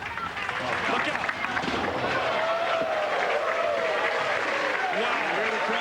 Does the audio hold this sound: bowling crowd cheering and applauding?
yes